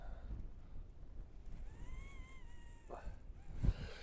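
Wind buffets and rumbles in gusts around an abandoned Victorian manor house amid freezing hail, with a thin whistling tone drifting in partway through.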